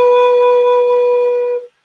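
A single sustained wind instrument note played with the jaw closed and the throat more closed, steady and clear with strong even overtones, held for about a second and a half before stopping abruptly, heard alone.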